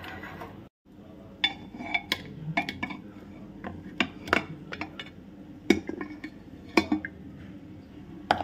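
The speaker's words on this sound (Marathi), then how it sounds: "चला आता कुकर रिकामा करते भाताचा।" Rice is emptied from a pressure cooker with repeated sharp metallic clinks and scrapes of a spoon against the pot, irregular and close, in a home kitchen with no talking.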